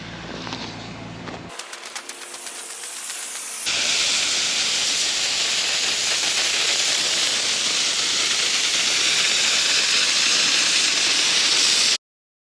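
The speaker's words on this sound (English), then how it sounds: "And hear the water, air go through." Compressed air and water blasting through a residential sprinkler system during a blowout, a loud steady hiss that surges up after a short lead-in and runs until an abrupt stop.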